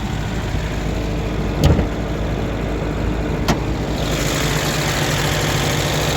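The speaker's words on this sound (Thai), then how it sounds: "เครื่องยนต์เดิม V5 คาร์บูเรเตอร์นะครับ" An older Mazda 323 Colorkey with its original carburetted petrol engine idles steadily and close by, a continuous rumble with a couple of brief clicks.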